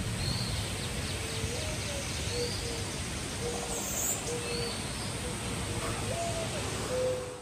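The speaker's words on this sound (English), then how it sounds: "I hear the birds. I hear the bugs." Birds calling and insects buzzing outdoors on a mountain porch with a wide-open view, with scattered hooting and chirping calls over a steady insect hum and breezy background.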